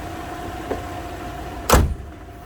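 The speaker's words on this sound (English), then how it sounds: "I'm going to shut the hood and let's go for a little ride." A Lexus LX470's hood slams shut in a single loud, close thud near the end, after a steady idling hum.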